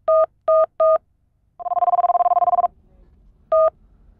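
A mobile phone being dialed: three short keypad tones, then a longer warbling ring tone for about a second, and one more short keypad beep, all clear and close with no talking.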